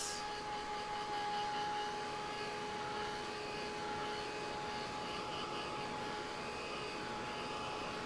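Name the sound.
dryer blowing on painted pumpkin to dry the paint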